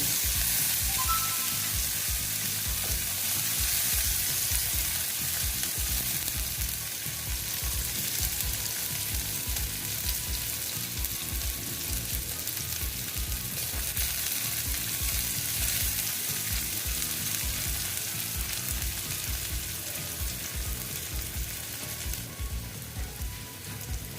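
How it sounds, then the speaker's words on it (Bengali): Chopped onions fry steadily in a pan, a continuous close sizzle with faint scraping stirs running underneath the whole time and no voices. "পেঁয়াজ কুচি দিয়ে আমি ভালো মতন এটাকে ভেজে নেব"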